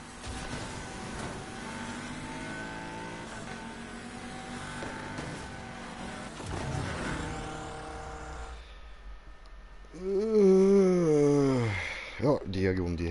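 Cars drifting in the racing video game NFS Heat, a steady loud engine roar with tire noise running continuously for most of the stretch, then dropping away as a voice speaks over the end.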